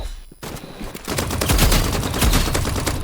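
Rapid gunfire in the Roblox shooter Rivals, dense bursts of shots building into near-continuous automatic fire, loud and close.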